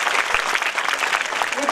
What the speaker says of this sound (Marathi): सन्माननीय शरद कुमारजी अग्रवाल यांच्यासाठी जोरदार टाळ्या होऊन जाऊ द्या.